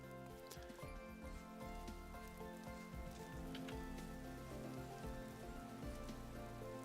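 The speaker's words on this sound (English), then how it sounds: "Looks like time for another rainstorm." Steady rain in the game Vintage Story, a continuous dense patter of drops on surfaces, even and fairly faint throughout with no voices over it.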